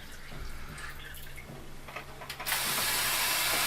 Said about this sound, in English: deionized water that I'm using in one of these cheap and cheerful pump up garden sprays